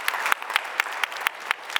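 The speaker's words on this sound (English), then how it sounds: "I think we should have a round of applause for that philanthropy" Applause from a panel discussion audience: a brief burst of many hands clapping, with several louder individual claps cutting through the steady patter at a quick, regular beat.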